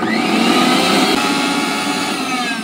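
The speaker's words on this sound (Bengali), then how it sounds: "এরপর এটাকে ভালো করে আবার মিহি করে পেস্ট করে নেব।" An electric grinder whirs continuously at full power, blending papaya into a fine paste for a face pack: a loud, steady, close motor drone with no talk.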